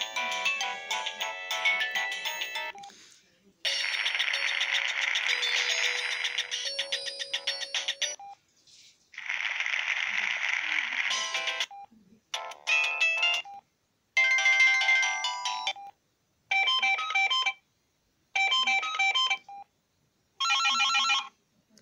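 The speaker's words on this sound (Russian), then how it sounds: "Вот такие звуки есть на телефоне." Retro Samsung SGH-X640 mobile phone playing through its ringtones one after another, bright electronic melodies and trilling ring patterns in separate bursts with brief silent gaps between them.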